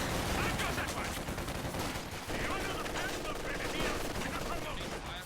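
A machine gun fires during a battle in a real-time strategy video game, rattling steadily amid dense, continuous combat noise of other gunfire and effects at moderate level.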